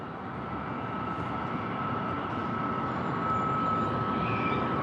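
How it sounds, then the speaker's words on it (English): A jet airliner rolls out after a smooth landing in Southern California skies, a steady distant roar of engines and wind with a thin whine rising slightly toward the end, alone without voices. "that was a really smooth landing"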